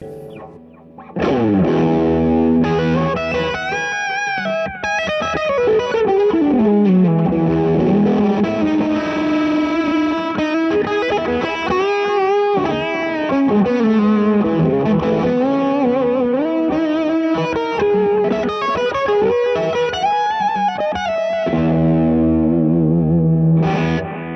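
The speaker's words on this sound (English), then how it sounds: "It's the lead fuzz on the bridge pickup" Electric guitar on the bridge pickup through a lead fuzz preset on a VP4 effects unit, playing a sustained, singing lead line with bends and slides, thick distorted tone with chorus shimmer, loud and continuous with no talking.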